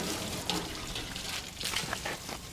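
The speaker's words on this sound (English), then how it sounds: "now we got water here that doesn't quite reach. We're just spraying all this out" A garden hose sprays water across a driveway, giving a continuous close hiss and splatter that shifts slightly as the stream moves over the concrete.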